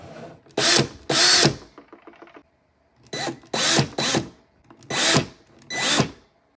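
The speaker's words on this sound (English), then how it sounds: "Now you can start drilling the hole." A power drill whirs in six short bursts, each a second or so long, separated by brief pauses and faint mechanical ticking.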